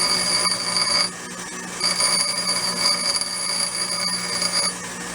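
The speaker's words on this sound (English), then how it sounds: "I'll take it over to the grinder, clean it up just a little bit." Bench grinder smoothing the edges of a metal Slingerland drum throwoff handle, a continuous high whine with grinding rasp that dips and swells as the part is pressed against the wheel, no talk.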